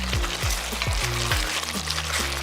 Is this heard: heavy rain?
no